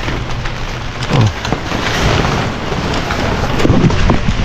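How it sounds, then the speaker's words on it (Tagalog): Sudden rain falls hard outdoors as a tarp is being put up, a steady loud wash of downpour with scattered heavier patters and bumps close by. "Ayan po, biglang pumatak yung ulan."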